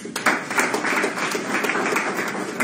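Audience clapping from a property sales masterclass crowd, a steady, dense patter of many hands that holds for the full few seconds at moderate volume, without any talk over it.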